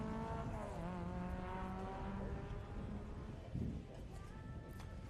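A Mark II Ford Escort race car at a historic sprint event corners at speed, its engine note rising and falling with gear changes and a brief tyre squeal, while a commentator talks over it.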